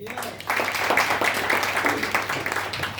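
An audience at a product presentation applauds in a brief, dense burst of many hands clapping for several seconds before it fades.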